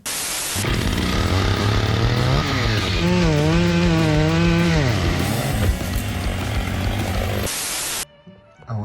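A saw with a GoPro camera attached runs loud and close for several seconds, a continuous buzzing roar whose pitch rises and falls with the throttle before it cuts off abruptly.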